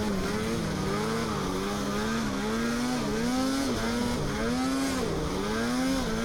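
A snowmobile engine riding on mountain slopes near Smithers, British Columbia, a continuous nearby drone whose pitch rises and falls in repeated surges as the throttle changes.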